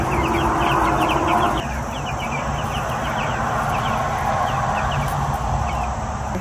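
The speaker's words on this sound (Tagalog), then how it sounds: "So there you go, 1 week old Cornish cross." One-week-old Cornish cross broiler chicks under a heat lamp fill the space with dense, overlapping high peeps and chirps, close and continuous, over a low rumbling background.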